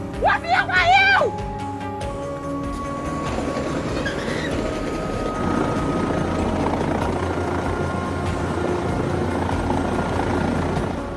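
A cargo helicopter flies overhead above a city street, giving a steady, loud rotor and engine rumble for most of the clip after a brief burst of shouting voices at the start.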